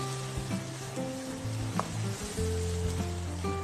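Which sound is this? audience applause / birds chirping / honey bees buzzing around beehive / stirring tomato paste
stirring tomato paste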